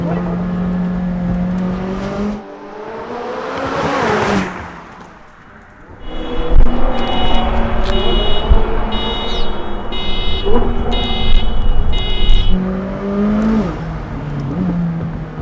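A powerful sports car engine revs hard and loud from inside the cabin, rising and falling in pitch with crackles as it shifts, nearby and sustained.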